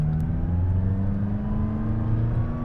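A McLaren Sport Series car's engine drones steadily from inside the cabin, a smooth mid-pitched hum with a faint whir, loud and continuous with no clear break for a gear change.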